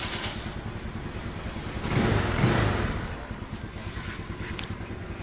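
A Keeway 125 motorcycle with a battery-operated electric start fires up and runs, a steady low engine chug with a brief swell in the middle, heard alone.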